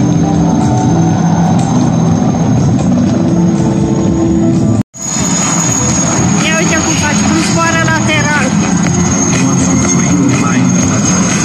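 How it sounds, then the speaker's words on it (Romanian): A US military helicopter flies a demonstration at the BIAS air show at Aurel Vlaicu Airport in Băneasa on a hot day, its engine and rotor droning loud and constant under nearby crowd noise, cut briefly by a short gap. "Acesta este un război, un elicopter de război din Statele Unite"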